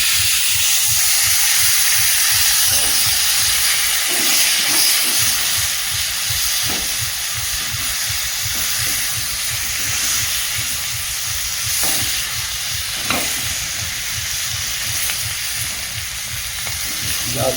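Hot oil sizzling loudly and continuously after washed potatoes are added, a broad hiss with a steady pulsing low rumble underneath and a few brief knocks.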